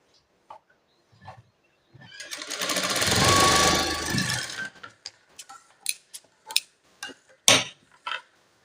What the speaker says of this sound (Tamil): ஒரு தையல் போட்டுக்கிறேன்.